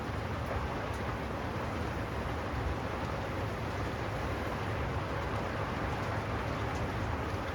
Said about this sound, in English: We got raining like cats and dogs right now.